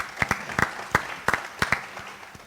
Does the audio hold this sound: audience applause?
yes